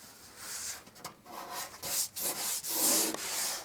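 Hand sanding of plasterwork on a hall wall, a close, steady scratchy rubbing in repeated back-and-forth strokes, swelling louder toward the end, with no talking.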